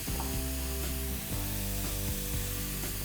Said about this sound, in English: Let's saute this lightly on high flame for at least a minute